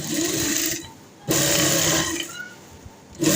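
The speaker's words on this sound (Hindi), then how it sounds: "यहाँ पर हमने इसको सिलाई लगा लेनी है" A sewing machine stitches a folded fabric strip with buckram for a boot-piping slit neckline, running in two close bursts with a short pause between and starting again at the end.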